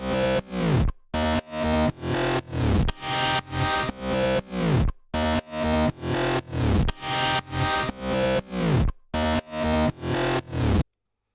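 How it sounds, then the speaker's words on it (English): A deep synth bass with sidechain compression pumps rhythmically, each note ducking and then swelling back up in repeated surges, with brief gaps between phrases. "So we have with nothing on, and then we have with the sidechain compression."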